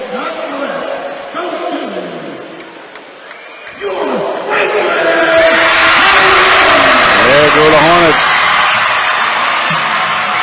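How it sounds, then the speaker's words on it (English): A packed high school basketball gym erupts into loud, sustained cheering and whooping as the Franklin Hornets clinch the LHSAA Division IV Non-Select state championship, the roar surging partway through. An announcer talks over the noise. "And the crowd erupts."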